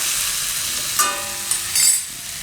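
Spices hitting a hot pan for raw green tomato sambharo give a continuous close sizzle, with a few brief stirring scrapes and a short louder flare near the end.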